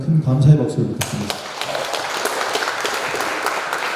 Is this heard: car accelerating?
no